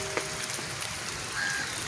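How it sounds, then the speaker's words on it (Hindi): Heavy rain falls steadily in open fields, a soft continuous hiss of drops that stays fairly faint and even throughout. "और बहुत ही स्पीड से बारिश हो रही है"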